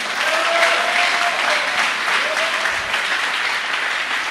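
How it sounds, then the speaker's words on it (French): A church congregation breaks into loud, continuous applause praising the Lord, a dense steady wash of many hands clapping throughout. "on acclame le Seigneur"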